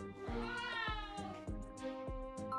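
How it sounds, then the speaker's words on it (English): A cat in a video game meows repeatedly, four or five short even-spaced mews over steady background music, clear and close. "Oh, it's that cat from before."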